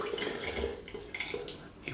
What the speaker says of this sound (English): I just fill that with water